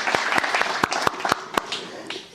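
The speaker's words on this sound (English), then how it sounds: "Please give yourself a big round of applause for being here this early this morning" An early-morning meetup audience applauds; a short, sparse burst of separate claps comes from a modest crowd, close and fairly loud, with no talking over it.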